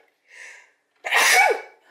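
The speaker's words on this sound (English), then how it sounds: "I've got a sneeze brewing." A single loud human sneeze, a short sharp burst preceded by a soft inhaling breath, close to the microphone with no talk.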